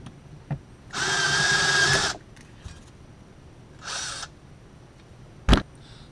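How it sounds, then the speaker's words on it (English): A power drill grinds off a rivet head in two bursts, a steady whine of about a second followed by a shorter second run, then a sharp metallic clack, close and loud with no talk. "Drilled the rivet head off, got this out."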